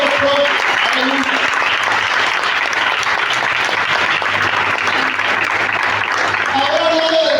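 Loud, dense applause from a church congregation during a Spanish-language worship service, continuous and close, with voices faintly mixed in beneath the clapping.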